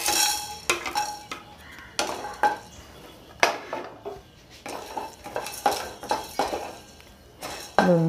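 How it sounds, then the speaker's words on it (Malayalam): Whole spices dry roasted in a pan for egg curry, with repeated metallic scrapes and clinks of a spoon against the pan in an irregular rhythm, close and fairly loud with no talk. "നമുക്കതിലേക്ക് നമ്മുടെ ഈ മസാലകൾ ഇട്ട് കൊടുക്കണം. ഒന്ന് ഡ്രൈ റോസ്റ്റ് ചെയ്തെടുക്കണം"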